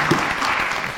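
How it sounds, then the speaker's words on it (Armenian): Brief burst of audience applause filling a single second, steady and fairly loud throughout. "Եկեք ծափարենք Էլեն Ասատրյանի սուպեր եզրափակիչ դուրս գալու համար"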